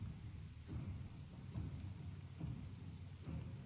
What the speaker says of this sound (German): Ich muss mit der Besatzung über den Regen sprechen. Ja, furchtbarer Regen.